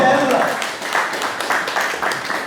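An audience applauds Dr. Jean-Audin at a Haitian community gathering in France, a steady wash of clapping with rhythmic surges, heard beneath a voice speaking over it.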